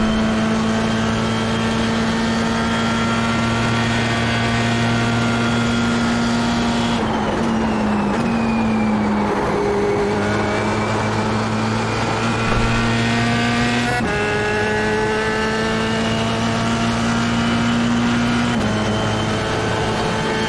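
Formula 3 race car lapping Sebring in the iRacing video game, a loud steady engine drone from the cockpit with distinct upshifts and downshifts as speed changes through corners, no talking.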